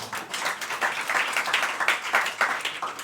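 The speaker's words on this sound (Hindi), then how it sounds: "आप सब इनके लिए भी एक बार जोरदार तालियां बजा दीजिए" Applause from a stand-up comedy audience, a steady patter of many hands clapping together at moderate volume for a few seconds, with no talk over it.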